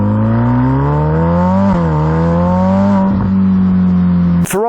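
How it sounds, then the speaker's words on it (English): A carbon-bodied Ferrari F8 N-Largo by Novitec with a 3.9-litre twin-turbocharged V8 holds a steady, deep, loud idle-to-mid drone with slight pitch dips, close up and unbroken, ending in a brief sharp burst. "Ferrari's graced us with probably one of the coolest engines that they've ever made"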